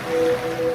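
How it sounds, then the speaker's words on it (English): Ocean waves used as a sound effect in a radio advert, a brief steady wash of surf with a faint tonal hum running through it. "now you're drifting asleep to the scent and sound of waves"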